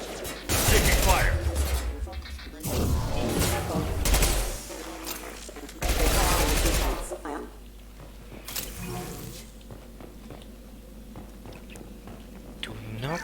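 Combat in the Mass Effect 2 video game erupts in loud bursts of rapid gunfire and heavy impacts, several separate volleys trading off, with a voice calling out over the noise and quieter mechanical clatter between bursts.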